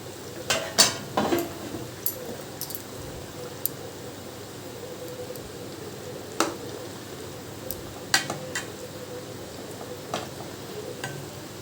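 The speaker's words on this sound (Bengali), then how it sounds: "ভাজা মাছগুলো সব মিশিয়ে দিলাম।" Fried boal fish being stirred into a curry in a pan, with scattered sharp clicks of a utensil against the pan over a low, steady simmering hiss.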